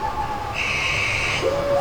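A brief owl call at an outdoor bird show at Jurong Bird Park: a sustained whistling tone followed by a lower hoot-like note, heard alone over a faint background hum.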